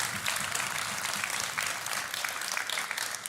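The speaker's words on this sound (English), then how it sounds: "Getting the crowd behind him." A wrestling-event crowd applauds steadily as a competitor heads to the ring, dense continuous clapping filling the space for a few seconds with little cheering standing out.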